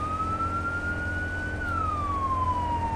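A fire engine siren from the firefighting video game Firefighting Simulator The Squad wails steadily, its pitch rising slowly then falling, loud and continuous over a low engine rumble with no talk.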